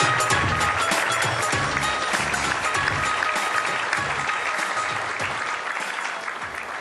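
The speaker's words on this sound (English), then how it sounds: "I don't think that I deserve a standing ovation yet" A large audience at a Mahindra dealer show in Atlanta gives a standing ovation: sustained, dense clapping from a big crowd that stays steady and fades slightly near the end.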